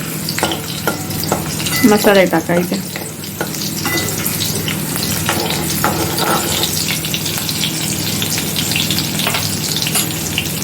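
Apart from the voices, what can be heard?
crushed garlic frying in oil for tempering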